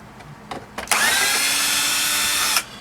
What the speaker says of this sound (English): So I'll get all the screws out real quick here.